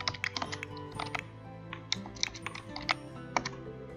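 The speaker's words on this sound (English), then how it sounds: "I'm typing it." Rapid, uneven keystrokes on a computer keyboard, close and fairly quiet, with short bursts of clicking and brief pauses, with no talk.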